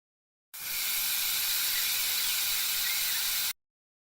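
An AI-generated steam hiss runs steadily for about three seconds, a loud, even, broadband rush that starts abruptly and cuts off cleanly, with no other sounds.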